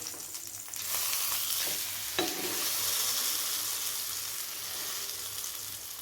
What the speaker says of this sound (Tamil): ஒரு மீடியம் ஃப்ளேமில் வச்சு ஃப்ரை பண்ணி எடுத்துக்கலாம்.